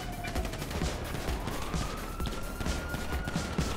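Gunfire in the GTA video game, a dense, steady stream of rapid shots under a distant wailing siren, continuous and fairly loud throughout, with no clear talk over it.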